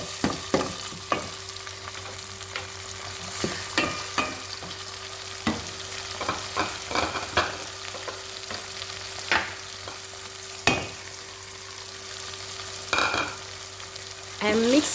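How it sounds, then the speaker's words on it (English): Fried tomato with bits of meat is mixed in a pan for Cameroonian fried bitterleaf: irregular spoon scrapes and sharp clacks against the pan over a steady low sizzle, close and moderately loud. "I'm mixing everything."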